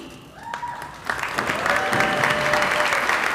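An audience at a Lane Community College commencement breaks into applause, clapping swelling from sparse to a full, steady round over a few seconds, with faint voices beneath.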